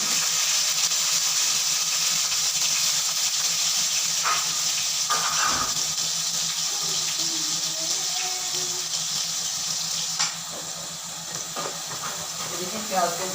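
Chopped onions sizzle in hot oil with cumin for a savory radish curry, a steady broad hiss filling the whole stretch with brief stirring clatters and a few louder spits, while someone talks faintly in the background.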